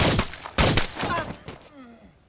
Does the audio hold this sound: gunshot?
yes